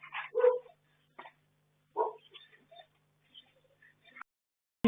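A dog barks a few times near a home at night, a couple of sharp barks followed by softer yips and whimpers with silent gaps, picked up by a doorbell camera.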